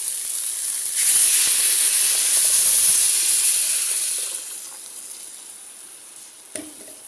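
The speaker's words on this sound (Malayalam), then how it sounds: "ഞാൻ അരപ്പ് ചേർത്ത് കൊടുക്കാൻ പോവാണേ" A ground coconut paste hits a hot pan for bitter gourd theeyal, bursting into a loud hissing sizzle that swells, holds a few seconds, then fades to a softer simmer with a brief clink near the end.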